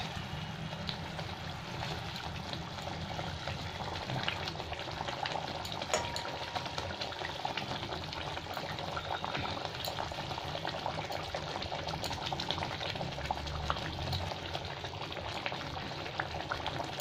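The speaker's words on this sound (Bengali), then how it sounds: "এখানে ঝোল ভালো করে ফুটে গেছে" Spiced yogurt gravy for Bengali doi maach bubbles at a steady rolling boil with fish in the pan, a dense continuous crackling burble at an even level throughout, close and without voices.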